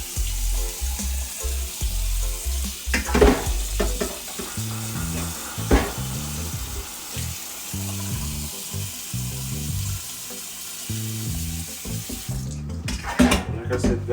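Raw chicken being washed in a kitchen sink, running water and splashing with the meat handled and knocked against the basin in irregular bursts, close up.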